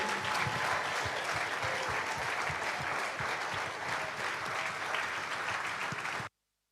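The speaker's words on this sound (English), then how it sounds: "Please welcome with a warm applause, Audrey Jo Ezigbo." An audience at an entrepreneurs' summit claps steadily in welcome, a full continuous round of applause that holds until it cuts off abruptly near the end.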